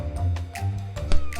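A small kitten meows several times in short, thin cries, close and fairly soft over a low steady background hum.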